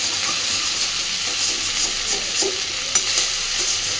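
Egg being stirred into a cauliflower and potato curry in a pan, with a steady frying sizzle and hiss throughout and soft spoon scrapes and taps, close and fairly loud, no talking.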